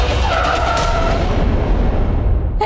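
A car brakes to a sudden stop, its tyres letting out a loud, sharp screech that rises and then fades over a couple of seconds, close and with no talking.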